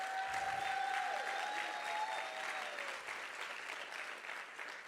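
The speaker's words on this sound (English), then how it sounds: "can we give them a round of applause really quick?" Faint clapping from an audience at a dance benefit show fills the whole stretch, steady and distant, with a thin whistling tone drifting over it.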